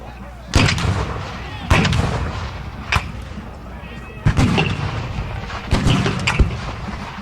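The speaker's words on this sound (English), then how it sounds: "And the line of Confederate artillery opens up on the Union infantry." Confederate artillery cannons fire at a Gettysburg battle reenactment, heavy booming blasts spaced irregularly across the stretch, several close and loud, with rumbling echoes between shots.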